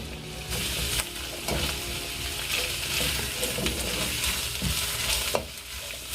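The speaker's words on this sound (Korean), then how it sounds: "그래서 소금을 넣고 좀 볶겠습니다." Bamboo shoots stir-fried with half a tablespoon of salt in a pan, a steady sizzle with scraping and stirring clatter from a utensil throughout, close and continuous, with no talking.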